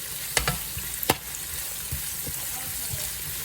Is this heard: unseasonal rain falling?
no